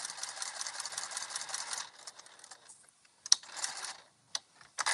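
A sewing machine top stitching at a small stitch length runs in a fast, steady chatter, then stops and gives a few short separate bursts, fairly quiet and close.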